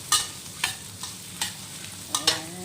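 Lamb stew meat sautés in a pan with a soft background sizzle broken by several sharp stirring scrapes and clacks spaced irregularly across a few seconds, close and fairly quiet.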